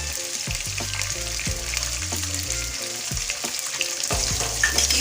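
Chicken pieces frying and being stirred with garlic and ginger paste in a pan, a steady close sizzle with repeated scraping and stirring knocks throughout, no talking.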